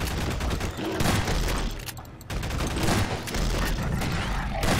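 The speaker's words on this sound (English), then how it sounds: "pulse rifle will do much better" Rapid pulse rifle fire in Garry's Mod, a dense continuous burst of loud energy-weapon shots with mechanical clatter, briefly dropping off near the middle before resuming steadily.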